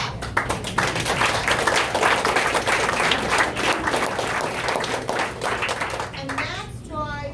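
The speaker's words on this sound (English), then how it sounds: "If you do, clap." An audience at an Eastern North Carolina Tea Party gathering claps together, a loud dense wash of hand claps that holds steady and then thins out, with a voice coming in near the end.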